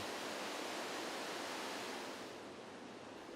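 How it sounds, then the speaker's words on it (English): Roaring rush of the raging Parvati river torrent at Manikaran in the Himalaya, a dense, continuous broadband roar heard close and loud without a pause, dipping slightly in level near the end. "The Parvati here at Manikaran is a fearsome raging torrent"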